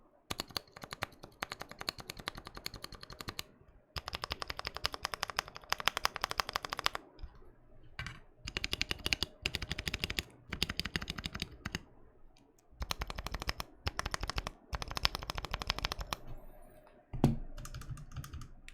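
Bursts of typing on a Godspeed75 mechanical keyboard with PBT keycaps, crisp clacky keystrokes in several runs separated by short pauses, close and fairly loud, with no talking.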